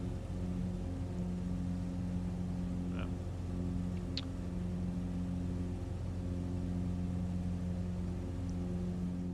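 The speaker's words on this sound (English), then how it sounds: "Lean the engine out a little bit more here." Steady drone of the X-Cub aircraft engine in Microsoft Flight Simulator 2020, flying Idaho backcountry near Warm Springs Creek, a continuous even hum held at one level throughout with no speech.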